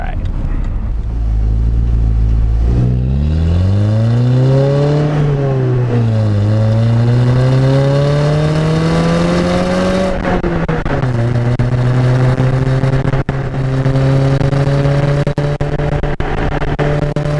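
A Pontiac Solstice engine revs up close and loud through several gear changes, its pitch climbing, dropping at each shift, then rising again before settling into a steadier pull.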